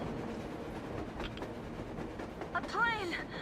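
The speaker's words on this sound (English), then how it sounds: "That's a train going through," A train rumbles past in the Metro Exodus game, a low continuous rolling noise that swells toward the end, topped by a brief squealing, whistling tone over faint background sounds.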